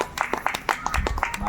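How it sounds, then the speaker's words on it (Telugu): Clapping at a religious gathering, heard as a quick series of sharp, evenly spaced hand claps in a steady rhythm, fairly close, with some voice sound mixed in. "గట్టిగా చప్పట్లు కొట్టి"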